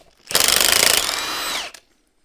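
An impact wrench or similar power tool spins off the crankshaft pulley bolts on a 1968 Plymouth GTX 440 V8 engine, one loud, steady whirring burst of about one and a half seconds, close up, with no talk.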